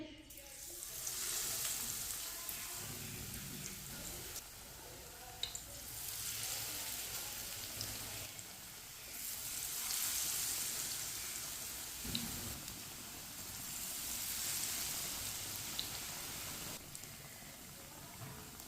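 Bread pieces dipped in gram flour batter sizzle steadily in hot oil on a lowered flame, a soft continuous frying hiss with faint bubbling that rises and falls gently throughout, with no voices.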